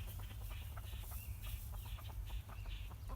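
Chickens clucking and chattering nearby, a steady run of short calls over a low rumbling background.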